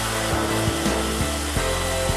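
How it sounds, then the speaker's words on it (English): Ocean Avenger CNC beam drill line drilling steel beams in a fabrication shop, a loud continuous motor whine with a steady hum and a few regular clunks at intervals, and no talking. "This allows the operator to stage new pieces while the machine is drilling"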